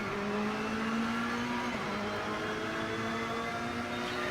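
A Ferrari race car engine in Assetto Corsa Competizione drones steadily at high revs down the straight at Monza, a continuous whining tone with a slight pitch rise, even and unbroken throughout.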